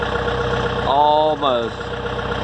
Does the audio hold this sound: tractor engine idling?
yes